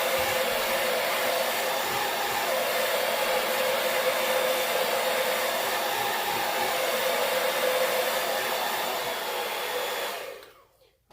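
A hair dryer blows steadily and loudly on a painted sunflower welcome sign to dry the paint, a constant close whoosh that runs for about ten seconds before cutting off.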